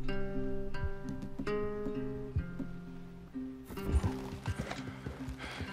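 Horse hooves clip-clop in Red Dead Redemption 2, steady near footfalls under a sustained musical tone, with a burst of heavier hoof clatter and a whinny near the end.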